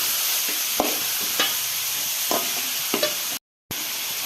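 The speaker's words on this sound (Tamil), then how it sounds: "இப்போ நம்ம கட் பண்ணி வச்சுருக்க வெங்காயத்தை சேர்த்துக்கலாம். சேர்த்து நல்லா நம்ம ஃப்ரை பண்ணி விட்டுக்கலாம்." Chopped onions for egg bhurji sizzle in a pan, with scraping stir strokes every second or so over the frying hiss and a brief silent break near the end.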